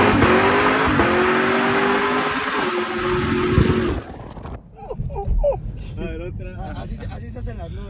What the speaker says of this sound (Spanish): ahí va un pequeño burnout.